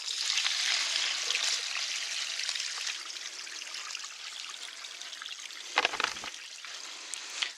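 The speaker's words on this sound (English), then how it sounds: "there is the water coming from the first bucket into the second bucket" Kitchen grey water is poured into a bucket filter, a continuous splashing trickle that slowly thins, with a brief louder gush near the end and no talking.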